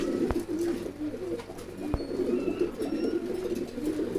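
Soft, low pigeon cooing repeats steadily throughout, from a pair of Holy Cooper pigeons, fairly close and alone, with a couple of sharp knocks along the way.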